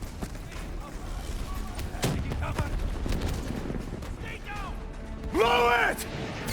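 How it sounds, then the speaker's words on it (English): Javelin missile strikes in Call of Duty: Black Ops III, scattered impacts and crashes under a steady battlefield din, with a rising whistling sweep near the end and voices shouting. "Brace for impact. Javelin missiles inbound."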